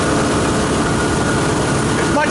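A Volvo Penta marine engine runs steadily under load during a full load test, a loud continuous drone with a deep rumble and no talking.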